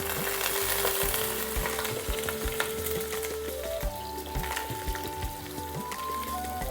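Potato, drumstick stems and green banana for nim shukto sizzle in a large wok while being stirred, giving a dense, continuous frying hiss with scraping knocks throughout.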